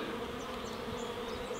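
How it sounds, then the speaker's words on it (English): A honeybee swarm hums in the bushes, a steady, fairly quiet drone of many wings with a few individual bees whining past nearby. "A lot of bees flying around."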